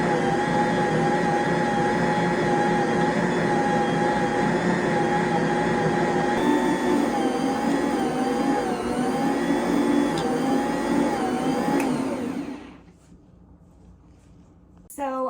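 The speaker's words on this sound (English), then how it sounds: "I'm just going to turn my mixer on to level 1, and I'm gonna let this mix for a while" A stand mixer running on its lowest speed kneads sourdough cinnamon roll dough, giving a steady close motor whine with a wavering pitch that cuts off near the end, leaving near-silence.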